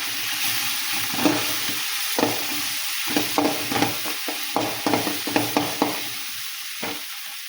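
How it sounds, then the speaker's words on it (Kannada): Cluster bean palya with turmeric powder frying in a pan, a spatula stirring and scraping in quick irregular strokes over a steady close sizzle. "ಇದಕ್ಕೆ ಅರಶಿನ ಪುಡಿ ಹಾಕ್ತೀನಿ ನೋಡಿ. ಇದನ್ನು ಚೆಂದಾಗಿ ಮಿಕ್ಸ್ ಮಾಡ್ಬೇಕು"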